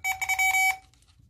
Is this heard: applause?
no